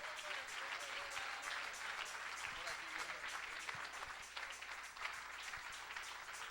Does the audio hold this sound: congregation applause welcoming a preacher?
yes